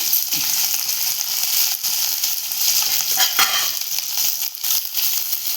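Green chillies fry in hot oil with a loud, continuous hiss and crackle while a spoon stirs them, adding a few scraping knocks against the pan.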